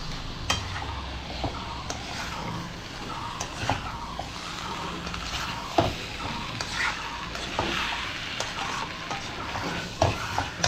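Spice paste frying in a kadai as it is stirred, a steady sizzle with repeated scraping strokes and clinks of a spatula against the pan, close and continuous with no talking.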